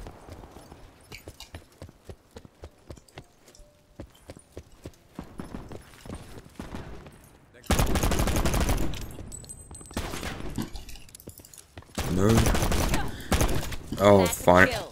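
Gunfire in Black Ops 4 Gun Game mode, with scattered shots early followed by loud sustained bursts of rapid fire mixed with game sound effects and a voice talking over it.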